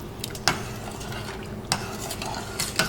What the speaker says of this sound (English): Just keep stirring it a little bit